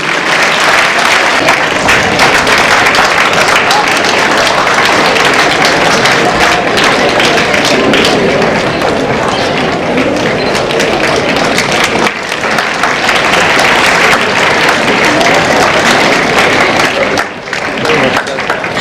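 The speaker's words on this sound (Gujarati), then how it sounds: "તાળીઓનો ગડગડાટ થવો જોઈએ." An audience at a school inauguration breaks into loud, sustained applause that roars on without pause for well over fifteen seconds, with voices mixed in.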